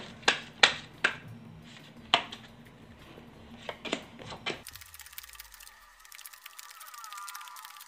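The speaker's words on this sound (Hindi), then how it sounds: "तो पत्ते सफल कर लेते हैं" Playing cards are shuffled for a game of Bhabhi. A handful of sharp, close snaps and flicks come in quick bursts over about four seconds, then the sound stops abruptly.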